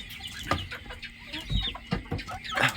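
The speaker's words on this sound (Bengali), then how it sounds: "এগুলা ফার্মি মুরগ," Farm broiler chickens, a flock of about sixty, cluck repeatedly and close by in short, uneven bursts, with no talking.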